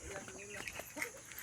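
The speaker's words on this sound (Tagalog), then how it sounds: "Ang daming manok." Chickens cluck softly in short, scattered bursts, faint and close together, with quiet background noise.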